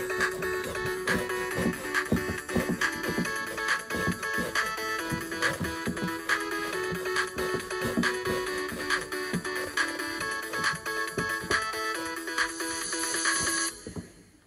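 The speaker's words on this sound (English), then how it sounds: "I remember my very first ringtone" An old mobile phone ringtone, a bright electronic melody of quick repeated beeping notes that plays steadily and loudly for about fourteen seconds and then cuts off.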